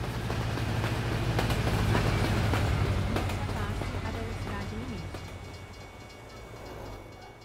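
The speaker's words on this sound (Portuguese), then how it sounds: "Mais trem passando." A freight train rolls past at close range in Lamar, Colorado, its steady low rumble and wheel clatter holding loud for several seconds before easing slightly toward the end.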